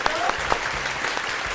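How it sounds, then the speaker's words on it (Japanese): Brief audience clapping greets a guest from the Swiss tool maker PB Swiss Tools, a short burst of hand claps with a voice speaking over it. "皆さん拍手。"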